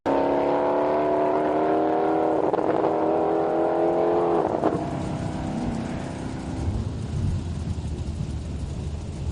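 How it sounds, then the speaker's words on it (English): A Dodge Challenger drag race car roars hard at Heartland Park in Topeka, its rising engine note climbing through gears with a shift break before the pitch drops and fades. "Orr in the Challenger, looking for gears"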